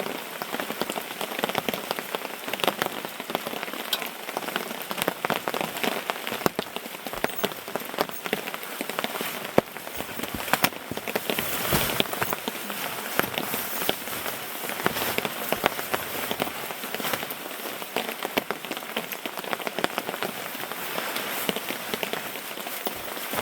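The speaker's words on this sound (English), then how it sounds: "Since it's raining and we got nothing better to do" Heavy rain drums steadily on a hammock tarp at a rainy camp, a dense continuous patter of close drops with no speech.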